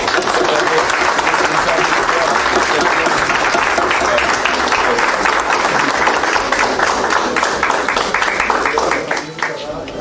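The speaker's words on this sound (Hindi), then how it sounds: "आपकी भरपूर तालियों में।" Loud, sustained applause from a large crowd fills the space, steady throughout and tapering slightly at the very end.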